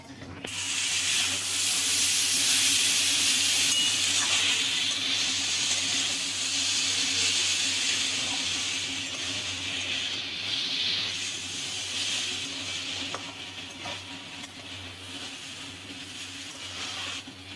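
Moringa drumsticks go into a hot pan for sukto, setting off a broad steady hiss of sizzling that stays loud and even, fading slightly toward the end.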